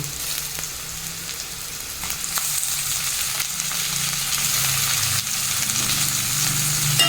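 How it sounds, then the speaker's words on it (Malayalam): Tomato frying with onions in a pan makes a continuous close sizzle that grows slightly louder, with occasional light scrapes of stirring and no talking. "ഉള്ളി സബോള വന്നിട്ട് മൂത്രണ്ട് അതിലേക്ക് നമുക്ക് തക്കാളി ഇട്ട് കൊടുക്കാം"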